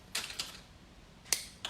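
Leatherleaf fern stems are cut shorter with a few quiet, crisp snips, two close together at the start and two more after a short pause.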